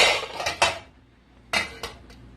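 A metal pot lid clanks down over a pot of okra sauce cooked with red palm oil, making two clusters of sharp metallic clatters about a second apart, close and fairly loud with no talk.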